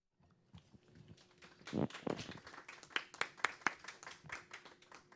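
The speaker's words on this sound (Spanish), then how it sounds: "al cual incluso no es usual aplaudir, pero merece el aplauso" Audience applause at a council session, a short burst of clapping that swells after a quiet start and then trails off into scattered claps.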